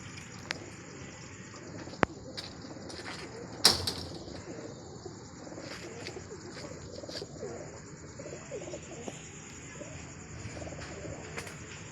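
A pigeon coos softly in a quiet outdoor setting, then is released with a sudden burst of wing flaps and faint chirps nearby.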